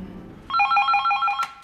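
A telephone rings, a bright warbling electronic trill of several rapid pulses that starts abruptly after a quiet moment and then cuts off.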